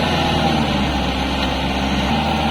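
A Kubota L4503 tractor with a rotavator working a paddy field runs at a steady, heavy diesel drone throughout, close by and constant in loudness with no talk.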